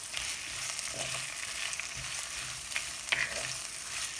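Sliced onions frying in a heavy-bottomed pan, a dense continuous sizzle with soft periodic scrapes and knocks of a spoon stirring, close and steady.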